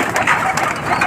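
Pigeons in a loft give a short burst of close, busy rustling and soft calls, with wing and feather movement filling the space for about a second.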